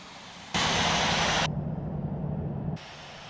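Boeing 777-200 jet engines in the Infinite Flight game roar steadily during taxiing, a broad rushing hum that swells abruptly, holds, then shifts to a duller, muffled tone before easing back.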